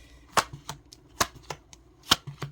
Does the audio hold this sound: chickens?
no